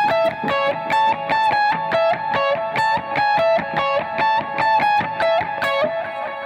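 Electric guitar plays a syncopated lead line through reverb and delay, its repeating notes smeared into a shimmering wash with echoes trailing between the plucks, steady and fairly loud with no talking.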